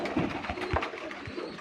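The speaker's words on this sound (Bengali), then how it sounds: "কবুতর আর কবুতর।" Pigeons in a loft in Alamdanga, Chuadanga, coo with soft low throaty pulses that repeat and overlap, close by, under a light background hum.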